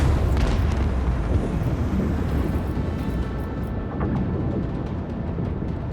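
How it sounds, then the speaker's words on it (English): Macro cannon fire from a starship in the Rogue Trader video game, a heavy, rumbling barrage that booms in at once and rolls on as a dense, loud roar before slowly thinning out. "Unleash the storm of macro cannon."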